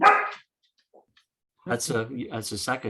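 A dog barks once loudly and close during an online Human Rights Commission meeting, then a faint whimper follows before a person starts talking.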